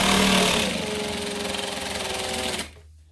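Sewing machine stitching a straight seam on fabric for a wallet: a steady, close mechanical hum with a fast rhythmic needle chatter that runs for over two seconds, then stops abruptly.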